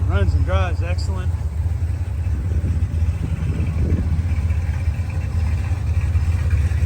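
A 1970 Chevelle SS 396 with cowl induction hood runs steadily, its low engine rumble continuous and fairly loud throughout, with a brief voice at the start over the idle.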